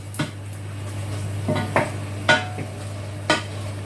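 Chicken and bacon pie filling is stirred in a pan with a spoon, making four or five distinct scrapes against the metal over a steady low hum.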